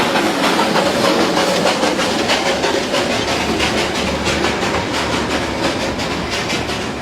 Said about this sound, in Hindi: रोज़ कई बार इतने सालों से दुकानों के इतनी करीब से ट्रेन के जाने के बाद भी यहाँ कभी कोई एक्सीडेंट नहीं हुआ।